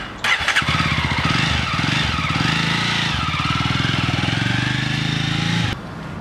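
A Jawa 42 motorcycle's engine catches and settles into a loud, steady, close-up thumping idle that runs for several seconds before cutting off abruptly.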